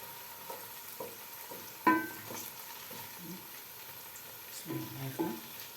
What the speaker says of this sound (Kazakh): Мына картоғымызды 5 минуттай қуырып алдық.